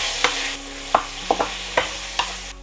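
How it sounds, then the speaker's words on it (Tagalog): Chicken liver fries in a pan with a constant soft sizzle, broken by about six sharp scrapes of a stirring utensil at uneven intervals. "So, ipa-fry muna natin to hanggang siya guys, maluto talaga."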